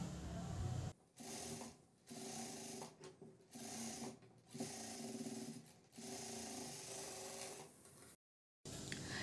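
Domestic sewing machine stitching the front of a blouse, running in several bursts of steady mechanical whirring with short pauses between runs, close and clear, no talking.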